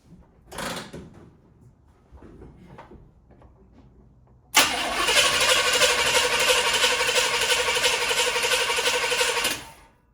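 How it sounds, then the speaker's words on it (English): A 1964 Chevrolet Impala's starter cranks the engine after a year of sitting, a steady, loud mechanical whirring that runs for about five seconds after a few quieter clicks and knocks. "Trying just for cranking"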